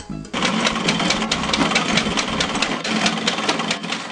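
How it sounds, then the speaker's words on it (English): A grating machine shreds soaked cassava grains into smaller pieces, starting abruptly and then running as a loud, steady mechanical whirr with fine rattling texture, close by and with no voices. "the cassava grains become strong again and is taken back to the machine to grate it into smaller grains"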